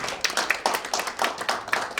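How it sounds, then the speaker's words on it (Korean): Audience members at a Korean organization meeting clap for a newly introduced secretary general, a modest scattering of hand claps in an uneven rhythm at moderate distance, with no talk over it. "박수 부탁드리겠습니다."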